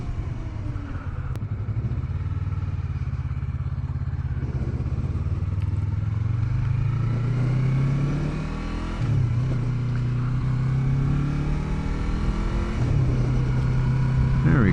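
A Yamaha R3 motorcycle accelerates hard close to the rider, its engine pitch climbing steadily then dropping with each clean gear shift, repeating through several gears under continuous wind roar.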